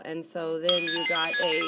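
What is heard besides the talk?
mobile phone ringtone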